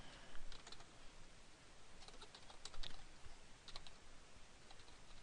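Keys tapped on a computer keyboard to type a name, a quiet run of soft irregular clicks over faint background hiss, with no voices.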